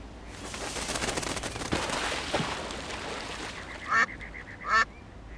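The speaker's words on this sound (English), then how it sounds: "The ducks are already here." Ducks in the adventure game Secret Files 2 give two loud, close quacks after a stretch of fluttering, clattering noise; no one speaks.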